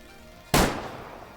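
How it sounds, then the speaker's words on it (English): A single rifle shot fired at a bighorn in the hunting game Way of the Hunter cracks loudly once and then decays with a lingering echo over quiet ambient background. "we're gonna go for about a 600-yard shot here"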